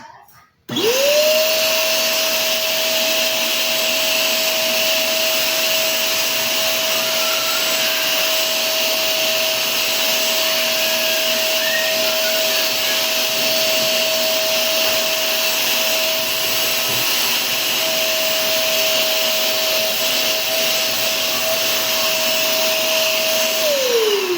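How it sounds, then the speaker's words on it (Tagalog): A repaired vacuum cleaner with a replaced motor and new carbon brushes switches on and runs with a steady, loud, constant whine close by, holding an even drone for the full stretch before winding down at the end. "okay naman yung ating na-repair na vacuum cleaner. Okay na siya, gumagana na."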